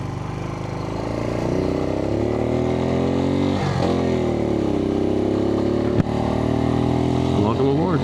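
A Suzuki TU250x motorcycle's small single-cylinder engine hums steadily while riding, a loud continuous drone with gentle rises and falls in pitch as the throttle shifts, one sharp click partway through.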